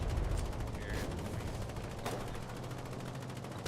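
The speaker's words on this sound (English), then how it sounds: "they're bombing the seaport" Dense, continuous bombardment and gunfire rumble through a seaport in the war game Foxhole, steady and loud with rapid overlapping blasts and no voices.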